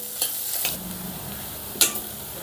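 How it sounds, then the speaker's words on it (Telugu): Onion pieces fry in oil in a pan for a vegetable masala curry, a soft steady sizzle broken by a few sharp scraping stirs of a spoon, close and alone. "ఈ ఉల్లిపాయ ముక్కల్ని కూడా బ్రౌన్ కలర్లోకి మారేంత వరకు ఫ్రై చేసుకుందాం."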